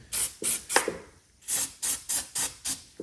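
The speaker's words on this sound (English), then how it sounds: "you can also just give it a spray down here on your bottom of your push rods and lifter area." Bursts from a spray can of valvetrain assembly lube aimed at pushrods and lifters in a Henry J engine: a hissy spray, a short pause, then five more quick, evenly spaced bursts, close and fairly loud.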